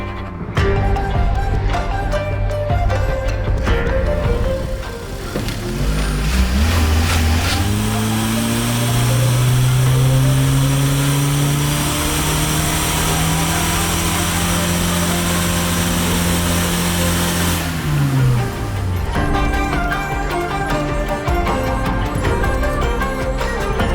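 A Toyota Prius runs on a dyno with ENEOS oil, its engine rising in a long, loud, steady rev. The pitch climbs and holds for several seconds, then drops away, under a constant mechanical roar.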